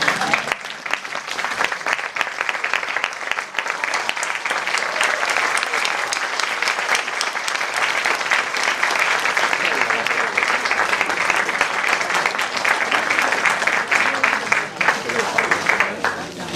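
An audience claps steadily and loudly for Marco, a dense, sustained round of applause filling the whole stretch, with a few voices mixed in near the end.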